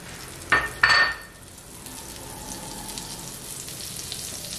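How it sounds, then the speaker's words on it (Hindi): Butter hits a hot pan for banana Nutella wraps: two brief clattering bursts, then a steady, soft sizzle that continues evenly to the end. "एक पैन मैंने गरम होने के लिए रख दिया था, इस पे आप यूं बटर डालेंगे"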